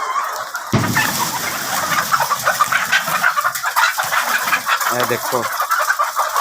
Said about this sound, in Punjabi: ਹੁਣ ਅਸੀਂ ਇਹਦੇ ਅੰਦਰ ਆ ਗਏ ਹਾਂ ਮੁਰਗੀ ਖਾਨੇ ਦੇ